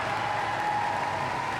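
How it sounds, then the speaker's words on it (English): Crowd in an indoor swimming arena at the Toronto 2015 Parapan American Games cheering and applauding a breaststroke swimmer near the finish, a steady dense roar of clapping and voices filling the space. "And the crowd brings him home."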